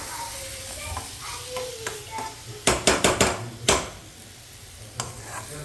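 Khandoli pieces frying in oil in a pan while being stirred, a steady close sizzle broken by a quick cluster of sharp spatula scrapes and clinks against the pan, then a final clink.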